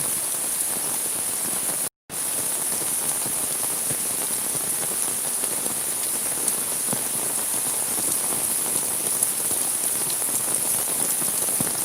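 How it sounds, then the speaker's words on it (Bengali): Heavy rain pours steadily in Sylhet during a time of rising floodwater, a dense, unbroken hiss of drops striking surfaces, loud and close throughout, with one brief dropout early on. "প্রচুর পরিমাণ বৃষ্টি হচ্ছে"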